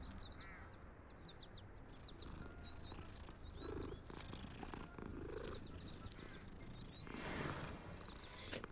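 A cat purrs softly while being petted in Hogwarts Legacy, a low steady rumble beneath faint chirping birdsong and ambient game background.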